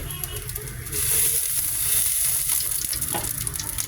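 Sauce sautéing in freshly added hot oil, a loud crackling sizzle that swells after the first second and holds steady close by, with no voices.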